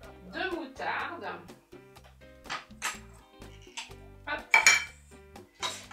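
A cooking pot clatters several times during burger-sauce preparation, sharp knocks and metallic rattles of cookware and cutlery, with people talking throughout.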